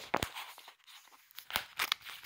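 Close, crinkly plastic crackling and tearing noises come in short bursts with a brief quiet gap as the cap seal of a ketchup bottle is worked open.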